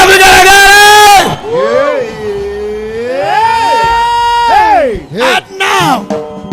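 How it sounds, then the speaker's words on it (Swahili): A crowd at an overnight prayer vigil on a primary school ground in Kahawa West sends up long, sliding high-pitched ululations over cheering, loud and close, with the calls rising and falling in waves before breaking into shorter bursts. "Weka mikono juu na vigelegele."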